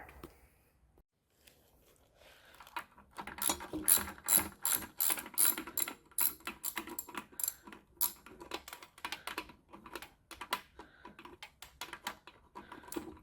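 A hand ratchet clicks rapidly in short, uneven bursts while loosening the fuel pump bolts on a Pontiac 350 V8, including a hard-to-reach blind bolt. The clicking is close and fairly loud and runs through most of the clip with no talking.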